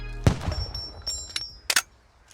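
A grenade launcher fires in the video game Squad: a sharp, loud thump opens, followed by a few softer cracks and impacts, with a thin metallic ring lingering between them.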